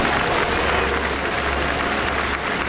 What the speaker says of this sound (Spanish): Termina el coro de cantar el Va pensiero y el público prorrumpe en un aplauso furioso.